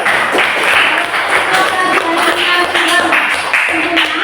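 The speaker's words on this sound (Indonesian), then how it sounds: "tepuk tangan untuk kelompok 1, 2, 3, dan 4" Classroom students clapping for their groups, a dense patter of many hands under loud room noise, with some tapping and thuds mixed in throughout.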